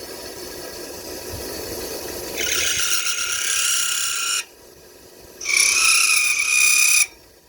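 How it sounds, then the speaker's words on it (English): A harsh, buzzing rattle from a chatter tool cutting a spinning top on a wood lathe comes in two loud bursts over a steady motor hum. "the chatter tool is kind of held down"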